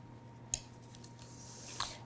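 Scissors or a knife cutting through soft zeppole pastry shells in a kitchen, two short crisp snips about a second apart over a quiet room.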